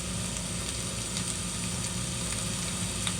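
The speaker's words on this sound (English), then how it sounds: "saute there with that olive oil and stuff" Vegetables sauteing in olive oil in a home kitchen pan, a dense, steady sizzle that stays loud and even throughout with faint crackles, no talking.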